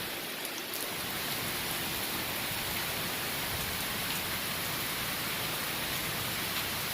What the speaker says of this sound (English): So glad it's raining.